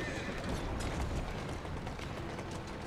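A horse in the video game Assassin's Creed Syndicate whinnies while its hooves clop quickly and repeatedly, close and fairly loud over the game's background noise.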